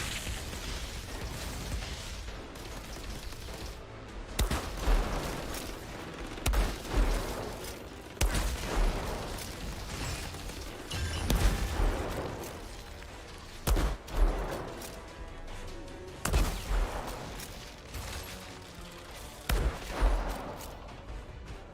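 An enemy fires at the player in the Outriders video game, with dense bursts of gunfire and explosive blasts repeating in irregular volleys over about twenty seconds, loud and close, without talk.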